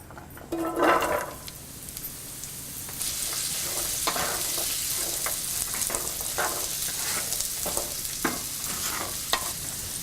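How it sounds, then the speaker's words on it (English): Sweet potatoes sauté in a skillet with a steady hiss and sizzle, with occasional stirring scrapes and taps. A brief louder rustle near the start comes as they go into the pan. "In this same pan, add the sweet potatoes and sauté."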